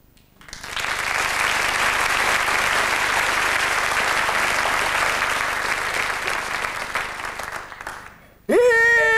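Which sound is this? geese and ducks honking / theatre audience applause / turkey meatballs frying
theatre audience applause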